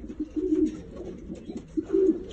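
Racing pigeons, grizzles, cooing close by at an indoor pigeon show, a few soft throaty coos in short bursts, alone without talk.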